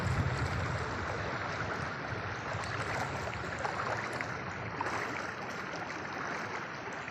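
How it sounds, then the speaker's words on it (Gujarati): Water runs off a farm field after heavy rain, a steady broadband rushing and gurgling, fairly close and continuous, with no speech. "આ તો ખાલી અમારે ખેતરનું પાણી છે, આટલું જાય છે"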